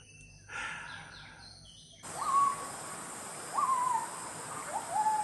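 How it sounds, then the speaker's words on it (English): A gibbon calls from the Khao Sok jungle in three rising, whooping hoots spaced a second or so apart, clear over a steady hiss of insects after a brief stretch of other jungle chatter. "So that's the sound of a gibbon."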